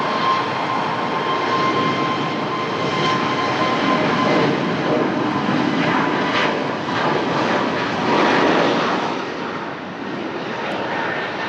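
A Boeing airliner taxies at Lisbon Airport, its jet engines producing a steady, loud broadband roar with a faint whine that holds throughout and swells slightly near the end.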